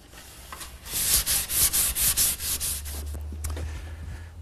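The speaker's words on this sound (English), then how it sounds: "A little bit of final sanding" Rhythmic back-and-forth sanding strokes rasp loudly against a wooden chaise lounge, about a dozen quick passes, then slowing and fading under a low hum.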